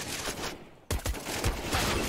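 Gunfire in a Counter-Strike match, rapid crackling shots amid a dense wash of game noise, with a sharp burst near the middle and no talking.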